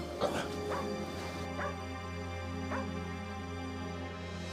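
A dog barks and whimpers repeatedly at a closed door inside a house, with a few sharp yips rising over a steady low hum and some faint voices in the background.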